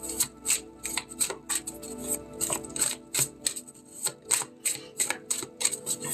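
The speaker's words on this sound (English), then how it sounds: "I'm going to go ahead and shuffle again and see what wants to pop out." Oracle cards are shuffled by hand in quick, papery riffling bursts, repeated steadily and close by, with no talking.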